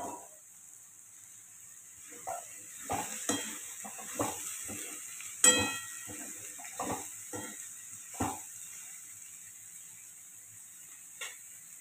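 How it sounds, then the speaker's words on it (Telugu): Potatoes, capsicum and carrot frying in a pan, with a soft hiss under a string of scattered clinks and scrapes as the vegetables are stirred, fairly quiet and close. "ఇలా వేగుతున్న దాంట్లో మనం ముందుగా తరిగి పెట్టుకున్న బంగాళాదుంపలు, క్యాప్సికము, క్యారెట్"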